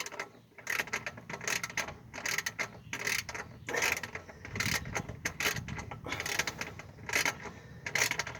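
A ratchet wrench tightens the clamp on a custom-fabricated OEM-plus style exhaust tip, with repeated quick clicking bursts in short runs at close range and no talking.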